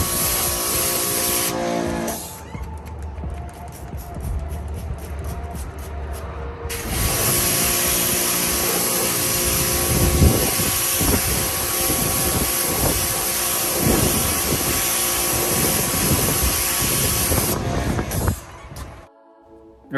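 High-pressure washer rinsing a Tesla Model 3, a loud, hissing spray that starts, cuts briefly, then resumes with a steady rushing roar and fluctuating splatter as the jet moves across the panels.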